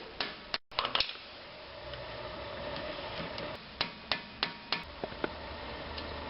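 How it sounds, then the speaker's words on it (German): An impact wrench works loose a rusted brake bolt on a Porsche 944 S2, with a few sharp rattling bursts near the start followed by a series of separate clicking taps over faint background hiss. "Ein Versuch, die Schraube normal aufzumachen, ist meiner Ansicht nach hoffnungslos, deshalb gleich zärtliche Gewalt und Schlagschraube."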